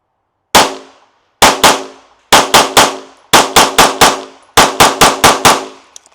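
Glock 47 Gen 5 pistol firing on a range at 5 yards in a progressive drill: one shot, then two, three, four and five in quick strings. The shots are loud, sharp and close, with pauses between strings.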